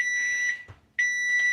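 A kitchen timer alarm sounds during dinner cooking, a loud, steady electronic tone that cuts off briefly and then resumes, with no talking over it.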